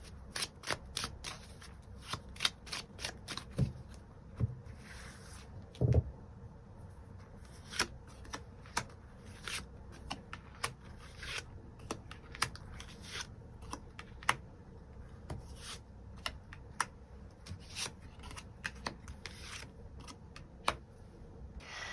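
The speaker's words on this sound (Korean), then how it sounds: "추가 카드로 일별로 월요일부터 일요일까지 어떤 하루하루를 보내게 될지 추가 카드 뽑아보도록 하겠습니다" Tarot cards are shuffled and drawn: crisp riffles and flicks, quick clustered snaps with short pauses, close and fairly quiet, with no one speaking.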